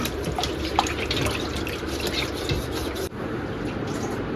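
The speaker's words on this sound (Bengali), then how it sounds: "এই জলের মধ্যে রেখে পরে এই যে ব্রাশ দিয়ে পরে এমনিভাবে ঘষে নিচ্ছি" A pan sits in water in a sink and is scrubbed with a brush, giving a steady wet swishing and rubbing with running water, close and continuous, with a brief pause near the end.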